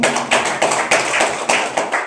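A church congregation claps hands in thanks, a steady rhythmic run of sharp claps repeating about three times per second, loud and close.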